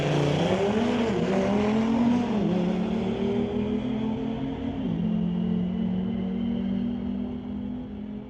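A 2018 Audi RS3 launches down a drag strip, its engine roaring loud and rising through gear changes, with a brief dip in pitch before pulling hard again, close and continuous.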